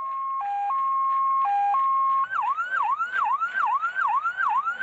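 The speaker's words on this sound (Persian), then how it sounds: "این جریان آجر آمبولانس چیه موقعی که ابو مسلم گل زد" Ambulance siren played in a stadium after a goal at an Iranian league football match between Abumoslem and Bargh Shiraz, starting with a two-tone wail then switching to a fast rising yelp, loud and steady with no talking.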